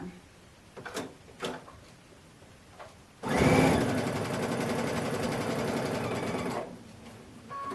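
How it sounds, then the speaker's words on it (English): A sewing machine runs a single continuous seam from one corner of the fabric to the other, a close, loud, steady motor buzz lasting about three seconds after some soft handling clicks. "And then I sew from one corner to the other corner."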